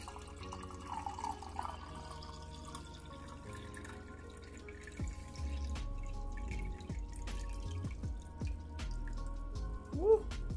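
Homemade Jamaican sorrel drink made from hibiscus roselle is poured from a container into a bottle, giving a soft, continuous trickle and splash of liquid at close range in a quiet kitchen.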